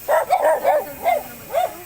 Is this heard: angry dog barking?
yes